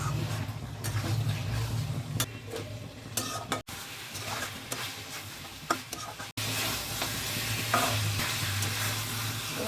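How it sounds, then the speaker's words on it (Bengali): Mutton curry with spices sautés in a little oil in a pot, a steady sizzle broken by stirring scrapes and a couple of brief pauses, fairly quiet and close. "কষানো হয়ে গেছে চারিদিক থেকে আমি অল্প তেলে রান্না করছি"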